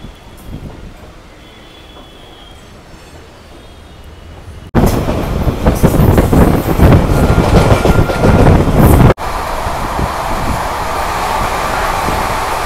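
A MEMU train running from Asansol to Barddhaman rolls along, first a quieter interior hum, then loud rushing wheel and wind roar with rattling, then a steady medium rumble, close and continuous.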